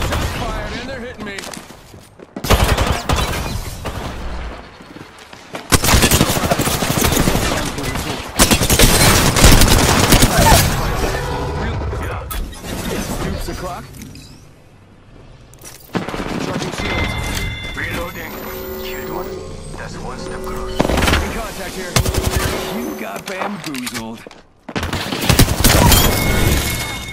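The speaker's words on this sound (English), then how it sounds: "Shots fired and they're hitting me." Apex Legends gameplay gunfire: loud bursts of rapid automatic fire and heavy shots in dense clusters separated by brief lulls, with in-game voices talking over parts of the fight.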